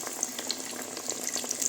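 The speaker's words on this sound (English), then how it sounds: "And now we'll start frying it." Chicken sizzles and crackles steadily in hot oil at medium-low heat, a continuous bright hiss with small pops scattered throughout.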